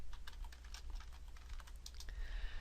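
Quiet, quick clicks of keys on a computer keyboard as a short layer name is typed, faint and close with no talking.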